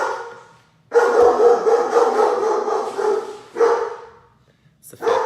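A dog barks at a delivery driver indoors: loud, harsh bursts that come in a long run, then a shorter one, and begin again at the end.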